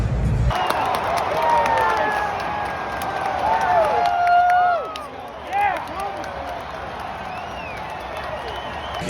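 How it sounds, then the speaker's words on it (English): Party guests at a 27th birthday celebration clap and cheer loudly in a nearby crowd, with overlapping voices and bright whoops rising and falling over about nine seconds. "Everybody cheer if you want Matt to have an amazing birthday."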